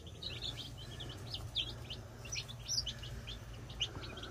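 Chickens and their chicks give soft, quick chirps and peeps scattered throughout, fairly faint against a steady low hum, with no talking.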